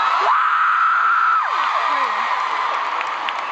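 A child at a concert in Croke Park lets out a loud, sustained high shout lasting about a second. Fainter falling cries follow against the steady roar of a large stadium crowd.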